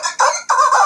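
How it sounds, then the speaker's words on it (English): Chicken clucking sound effect, two loud, close, squawky clucks in quick succession, with nothing else behind them. "Chicken."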